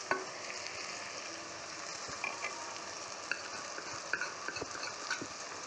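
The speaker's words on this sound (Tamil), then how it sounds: "இந்த நண்டு போட்டு நல்லா கலரி விட்டுக்கணும்" A spoon stirs spicy crab fry in a sizzling pan, with steady frying hiss and occasional scraping clinks of the utensil against the pan, close and moderately loud.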